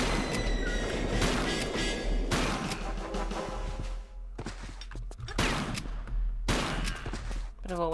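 Video game gunfire comes in loud, dense volleys separated by short pauses, with crashing impacts mixed in.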